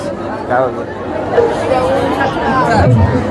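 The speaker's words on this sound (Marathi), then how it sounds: "स्टॉलवर ऑलरेडी भरपूर गर्दी वाढलेली आहे" Busy crowd chatter among packed seafood stalls at the Karanja festival, a steady hubbub of many overlapping voices close by, with no single voice standing out.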